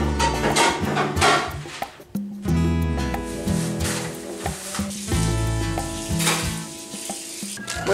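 Hungry Jack pancakes fry in a hot pan with a continuous, fairly loud sizzle that holds steady throughout, mixed with a few light kitchen clinks and some tonal background sound.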